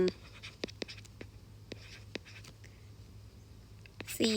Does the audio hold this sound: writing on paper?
yes